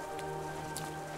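Steady rain falls across the gloomy, semi-abandoned City of Tears in the video game Hollow Knight, a soft continuous patter and drip with faint droplet ticks over a low musical hum.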